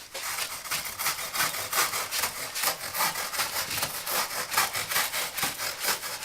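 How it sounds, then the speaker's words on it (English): A hand rasp works over wood or foam shaped for Wookiee costume feet, giving a steady run of rough, scratchy back-and-forth strokes at close range with no talking. "Let's see if I can take the rasp to it."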